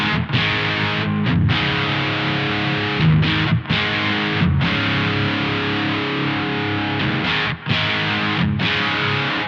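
Electric guitar through a T-Rex Dr Swamp distortion pedal with the gain turned up high, giving a loud, raucous, saturated tone played as sustained chords with brief breaks between them.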